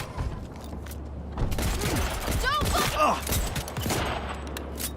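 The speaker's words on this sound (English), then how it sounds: "This has got machine guns on it." A vehicle-mounted machine gun in Cyberpunk 2077 fires dense, rattling bursts amid booms and mechanical clatter, loud and continuous for several seconds.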